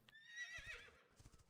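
A horse in an online fantasy role-playing game gives a short, faint whinny with a wavering high-pitched neigh, followed by a few soft clip-clop hoofbeats.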